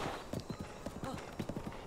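Horse hooves clip-clop in a quick, uneven rhythm as a horse is ridden in the video game Breath of the Wild, close and fairly crisp against a quiet background.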